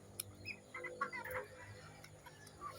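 A rooster clucks softly in short, scattered bursts as it pecks feed from a hand, close to the microphone, with no talking.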